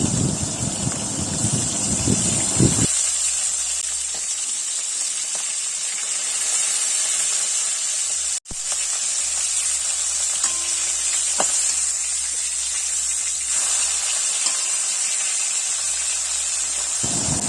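Small tangra catfish frying in a pan of hot oil, giving a steady broadband sizzle and hiss that runs the whole time with no talk over it.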